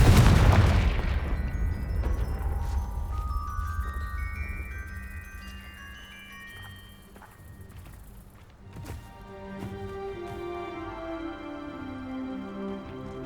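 A Confringo fire spell from Hogwarts Legacy detonates in a loud, booming blast, then leaves a shimmering trail of bright, ringing magical tones and crackles that fade and return over several seconds.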